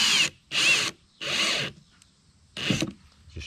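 A power drill driving number 6, 1 5/8 inch construction screws into cedar shed skirting whirs in four bursts of about half a second each, separated by short pauses, close and loud with no talking.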